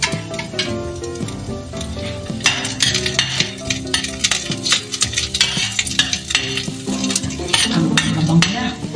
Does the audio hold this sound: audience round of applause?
no